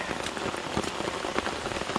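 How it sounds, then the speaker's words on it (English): Steady rain patters on a muddy Appalachian Trail path in Shenandoah after days of downpour, a dense, close, continuous hiss of drops with no voices. "We're hiking in the rain. Just hiking in the rain."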